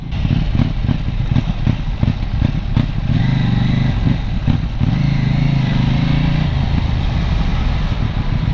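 A KTM 790 Duke naked motorcycle's engine while riding, a loud, continuous, throbbing drone that holds at low speed, with a rumble that rises and steadies midway, up close and mixed with wind noise.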